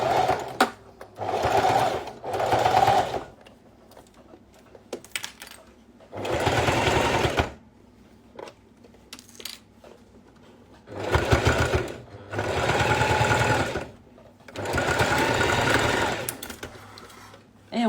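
A sewing machine stitches the seam of a school pencil case 5 mm from the edge, with several loud bursts of rapid whirring and short backstitch runs, spaced by pauses where a person talks.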